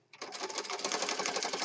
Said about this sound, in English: I'm sewing a little faster, but I like the way it looks, the texture that it gives.